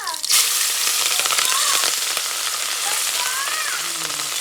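Chillies dropped into hot oil for Gujarati urad dal sizzle loudly and steadily, a close, crackling hiss with faint spoon scrapes and light talk underneath.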